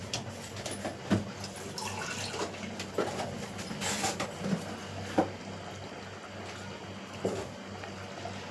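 Water is rinsed out of a container and poured into a cooking pot holding a ground almond, cashew and coconut paste, splashing and trickling steadily with a few louder sloshes.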